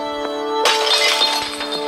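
Glass shattering in a video game: a sudden bright crash about two-thirds of a second in, followed by scattered tinkling shards, over a steady tonal game soundscape with no voices.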